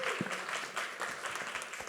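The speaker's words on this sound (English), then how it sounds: "Clap it up for yourselves one time." A live entertainment panel audience claps continuously for about two seconds, a dense, even patter of many hands at moderate distance.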